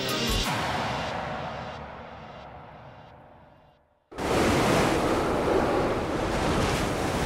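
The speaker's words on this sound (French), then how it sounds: "la mer de Norvège déploie une houle courte et abrupte qui coupe les estomacs" Short, steep swell of the Norwegian Sea heard from aboard the sailboat Southern Star: broad rushing surf and wind noise that fades almost to silence, then returns abruptly as a loud, continuous roar of waves.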